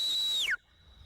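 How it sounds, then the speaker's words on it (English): Shepherd's whistle command to a working border collie: one loud, clear, sustained high tone that slides sharply downward at the end, then cuts off into quiet. "For each direction he wants to send a dog, he has a whistle."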